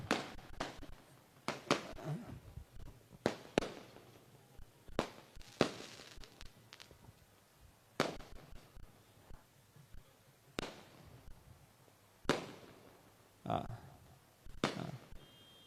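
Firecrackers going off at an outdoor celebration, a series of sharp cracks and bangs, some in quick clusters and others spaced apart, with background voices between them.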